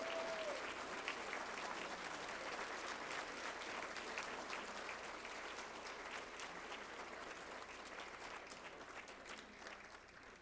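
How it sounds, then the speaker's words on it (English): At the Montgomery County Business Hall of Fame 2021 ceremony, an audience gives inductees steady, sustained applause, a dense patter of clapping that holds evenly and fades slightly toward the end, with a faint whistle at the start. "let's give a huge round of applause to all of our fabulous"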